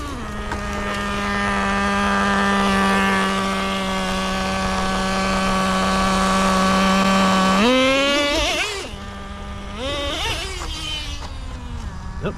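A Traxxas Nitro Rustler 2.5 RC truck fitted with sand paddles runs on a beach, its nitro engine holding a loud, buzzing high-pitched whine before revving up sharply, cutting out, and revving again.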